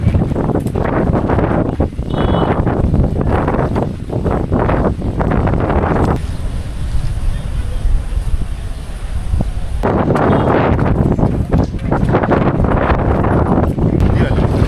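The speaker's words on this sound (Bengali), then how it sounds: "বাতাসের যে এত দৌড়, এই দৌড়ে ছাতাও ধরে রাখতে পারছি না।" Strong wind gusts buffet an umbrella in the rain on a bridge near Sylhet railway station, a loud continuous roar with rustling flaps, while someone talks over most of it.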